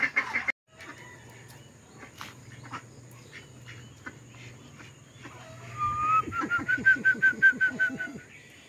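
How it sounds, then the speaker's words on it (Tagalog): Backyard ducks and chickens, hens and roosters, being fed in a small yard: scattered quacks and clucks throughout, building to a close, loud run of rhythmic quacking with a rising call near the end. "nagpapakain na tayo ng ating mga alagang pato at itik, yung mga inahin natin at barako"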